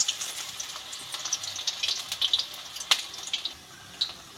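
Gima greens fritters (bora) frying in hot oil, a steady close crackle and sizzle with scattered sharp pops throughout.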